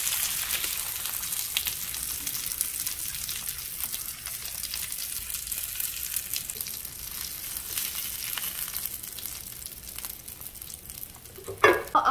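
Homemade ground beef burger patty frying in a pan, a steady broadband sizzle that runs unbroken at a constant level, close and alone, with a brief clatter near the end.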